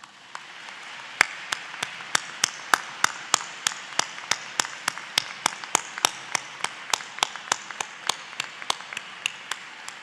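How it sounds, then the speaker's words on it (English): Graduates at a spring university convocation clap in thanks to family and friends, with sharp, distinct claps standing out in a steady rhythm over softer, quieter background clapping in a large hall. "convey your thanks to all your family and friends with a warm round of applause"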